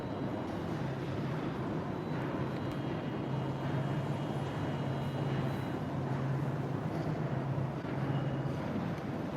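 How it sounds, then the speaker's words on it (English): Subway train pulling into a station, a steady loud rumble and roar with a low hum filling the whole stretch, no clear start or stop, in an underground setting. "that's probably my train coming right now"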